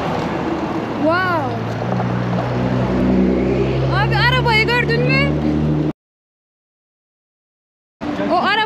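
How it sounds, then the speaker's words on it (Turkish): A race car passes on a street on Penang island, Malaysia: a loud, close engine roar swells and sweeps in pitch for several seconds, while people talk excitedly nearby. "Yarış arabası geçti ya."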